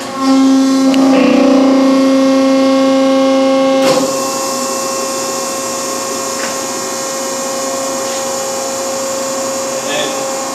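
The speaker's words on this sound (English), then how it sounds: "hit the clamp close button, and then the lower platen will raise." A Wabash V75-18-BPLX 75-ton hydraulic press hums steadily with tonal machine whine as its lower platen raises; a sharp shift partway through leaves a continuous motor and pump drone at close range.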